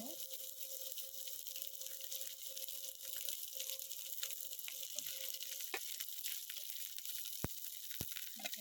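Green chillies fry in hot oil in a pan with a faint, steady sizzling hiss and occasional small pops and clicks.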